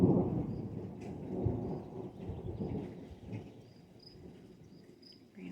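Thunder rumbles low and long through a desert rainstorm, with crickets chirping and light raindrops pattering faintly, and no talking.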